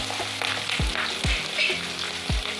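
Chopped ginger, garlic and green chilies dropped into hot oil with popped mustard seeds for lemon pickle, a close sizzle broken by a few sharp low thuds and scrapes, no talking.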